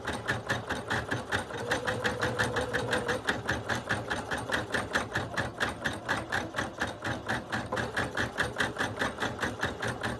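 An embroidery machine stitching a patch on white felt with tearaway backing, a loud, rapid and steady mechanical chatter of needle strokes running continuously and close up, with no speech.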